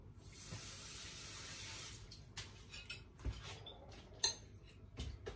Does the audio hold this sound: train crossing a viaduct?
no